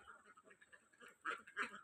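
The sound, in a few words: ducks quacking on a farm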